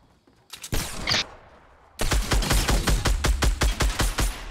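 Gunfire in Fortnite: a couple of scattered shots, then a rapid sustained burst of loud, closely spaced cracks in steady rhythm, nearby and dominating the mix.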